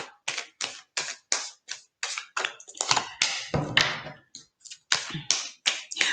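Tarot cards are shuffled hard and fast, making a steady run of crisp slapping taps and short riffling bursts, close and fairly loud throughout, with no talking.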